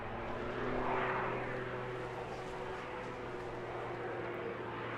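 A scratch-built aerobatic biplane based on the Pitts S2S flies at the English Riviera Airshow, its propeller engine a steady, distant roar that swells slightly early on and then holds without talk.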